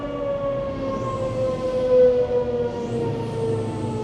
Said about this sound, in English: Oh, you hear the turbo?